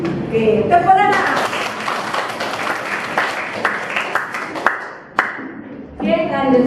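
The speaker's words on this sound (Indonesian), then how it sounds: "Oke, tepuk tangan." A primary school class claps hands in a classroom, a few seconds of dense, close clapping framed by a teacher's voice before and after.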